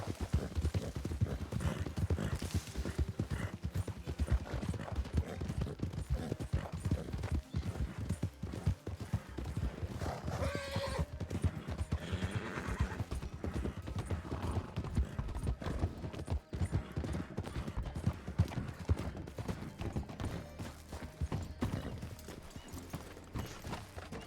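Horse in Red Dead Redemption 2 roleplay, rapid continuous hoofbeats at a gallop, loud and close throughout, with faint background game sounds.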